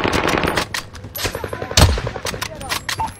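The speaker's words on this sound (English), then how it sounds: "Oh, I'm getting shot from the top of the roof." Rapid bursts of automatic gunfire in a battle royale video game, loud and close with sharp repeated shots, mixed with speech and game sounds.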